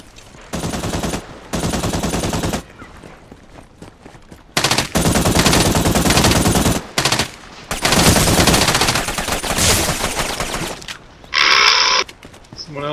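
Bursts of automatic gunfire in a video game, loud, repeated volleys separated by short pauses, with a sharper high burst near the end; players talk over the shooting.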